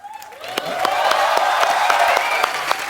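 Studio audience of a comedy talk show breaking into loud applause and cheering, sharp claps rising quickly and sustained as a crowd roar, with a voice speaking over the start.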